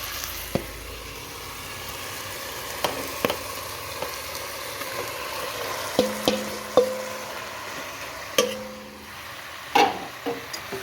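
Chicken with onion and tomato is stirred in a pot for a Sri Lankan home-style biryani: a low sizzle runs under scattered clanks and scrapes of the spoon against the pot, with no talking.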